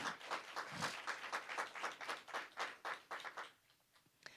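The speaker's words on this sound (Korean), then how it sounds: "우리 미리 하나님께 영광의 박수 올려드립시다." A church congregation at a Wednesday worship service claps together, a faint, distant patter of rhythmic clapping in regular bursts that fades out near the end.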